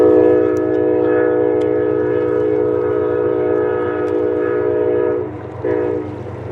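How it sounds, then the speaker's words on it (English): A CSX tanker freight train sounds a loud, sustained multi-tone horn close by over the low rumble of diesel engines, with the horn briefly dipping before a final short blast. "the tanker train gets the signal to head north at CP 45"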